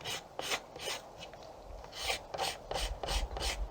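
A hand scraper rasps across the wood of a self bow while the bark is stripped, in a quick series of short, dry scraping strokes, close up and fairly quiet, with no other sound.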